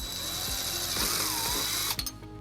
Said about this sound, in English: we're going to drill our first hole.